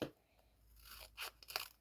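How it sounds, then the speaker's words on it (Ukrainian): Plastic packet from a paper craft kit being cut open, a few quiet close crinkling and snipping crunches over under two seconds. "Зараз ми його розріжемо, тому що повторяюсь, я не знаю, як його відкрити."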